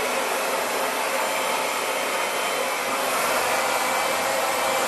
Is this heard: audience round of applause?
no